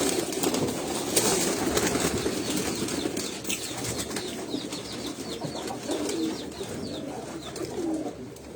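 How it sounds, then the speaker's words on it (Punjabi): Jaunsre Vaishi pigeons from Sialkot coo softly and repeatedly at a rooftop loft, with occasional bursts of wing flapping and a steady ambient murmur behind them. "ਇਹ ਜੌਂਸਰੇ ਵੈਸ਼ੀ ਕਬੂਤਰ ਨੇ ਜੀ ਸਿਆਲਕੋਟ ਦੇ ਪਿਓਰ ਸਿਆਲਕੋਟੀ ਜੌਂਸਰੇ ਵੈਸ਼ੀ"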